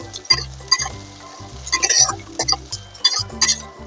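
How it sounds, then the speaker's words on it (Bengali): Chopped onions fry in a pan while a spatula stirs them, giving rhythmic clinks and scrapes about twice a second over a low steady tonal hum, with only a faint sizzle. "পেঁয়াজ কুচিগুলো হালকা বাদামি করে ভাজতে থাকছি।"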